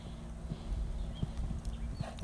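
Young horse cantering toward a fence during jump school, hooves thudding in a steady rhythmic clip-clop at moderate distance over outdoor background noise.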